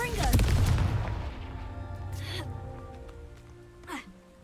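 A Confringo fire spell blasts off in Hogwarts Legacy, a loud booming burst up front that rumbles and decays over a few seconds, with a short whooshing flare near the end.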